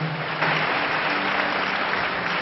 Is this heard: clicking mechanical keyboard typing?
no